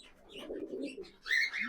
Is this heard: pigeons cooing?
yes